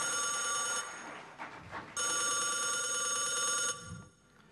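An old-style telephone bell rings in two long bursts with a short gap between them. The ringing is loud and close, with no voices over it.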